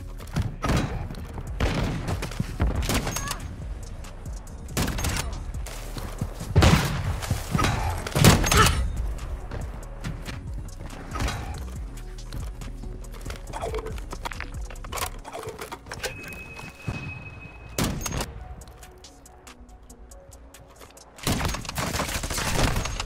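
Sniper rifle fire in Call of Duty: Modern Warfare 2 multiplayer: a string of sharp, heavy single shots spaced several seconds apart, loud and close, with hit-marker clicks and no talk.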